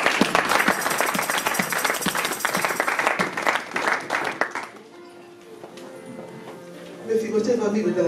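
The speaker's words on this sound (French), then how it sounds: "On acclame Dieu" A church congregation claps and cheers loudly for several seconds, dense and close. The applause then dies away into a quieter stretch, and murmuring voices rise again near the end.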